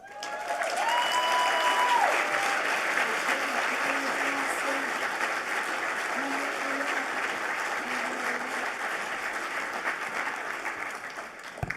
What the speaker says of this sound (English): Keep that applause going for yourselves